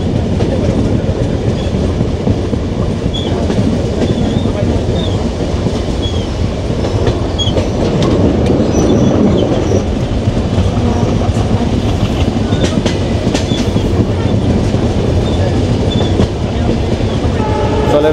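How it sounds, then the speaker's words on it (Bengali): The Madhumati Express runs past Talma station toward Faridpur on the Padma Bridge route, its wheels clattering in a loud, continuous rhythmic rumble heard from on board, with brief faint horn-like tones over the steady roar. "তালমা রেল স্টেশন পার হয়ে আমাদের ট্রেন ফরিদপুরের উদ্দেশ্যে ছুটে চলছে।"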